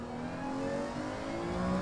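A car engine in Gran Turismo 7 revs steadily toward a 12,500 rpm redline, a continuous high, rising whine with clear harmonic tones, loud and alone.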